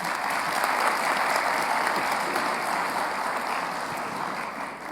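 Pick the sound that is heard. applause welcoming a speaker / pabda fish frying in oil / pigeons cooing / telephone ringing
applause welcoming a speaker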